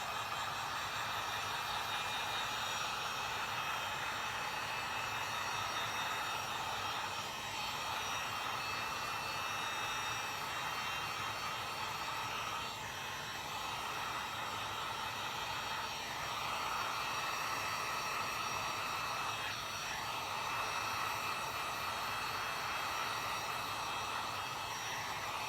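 A heat gun blows hot air over foam pieces of a Red Hood/Robin mask to seal them, making a steady loud whooshing hiss that continues alone throughout.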